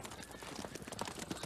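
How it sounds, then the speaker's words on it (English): Horses clip-clopping in a children's musical adventure near a storybook castle, a steady run of soft, quick hoofbeats heard faintly under a low background. "I do hear horses right now."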